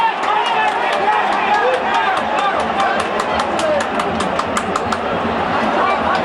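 A packed football stadium crowd roars and chants at a Champions League match between Dinamo București and Manchester United, a loud sustained din with rhythmic claps, under a commentator's voice.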